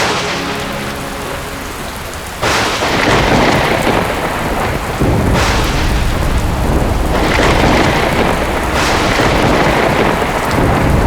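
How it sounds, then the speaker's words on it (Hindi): Heavy rain pouring continuously with several loud thunder rumbles and cracks rolling in at intervals, a dense, loud storm with no talking. "ये वर्षा तो रुकने का नाम ही नहीं ले रही।"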